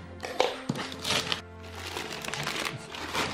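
Paper filling crinkles and rustles close by as a gift package is opened with scissors, with irregular crunchy bursts and taps over a few seconds.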